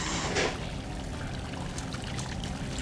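Steady flowing water in the video game Salt and Sanctuary, a continuous rushing pour with a brief louder splash near the start, filling the whole stretch without speech.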